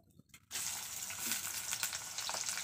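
Onion drops into hot oil in a frying pan in a rural Indian kitchen, bursting into a loud, steady sizzle that starts abruptly after a brief quiet moment and crackles on without pause.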